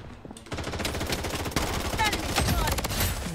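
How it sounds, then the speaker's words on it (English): Rapid automatic gunfire in the shooter game Bloodstrike crackles in a dense, steady stream of close shots, growing slightly louder toward the end. "someone shooting at me"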